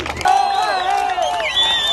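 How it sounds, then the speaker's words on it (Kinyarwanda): A crowd cheers and applauds in honour of the Ugandan government, loud sustained whoops and clapping close by, with high wavering voices rising over the din. "reka dukomere amashyi government ya Uganda, twese tubaha amashyi."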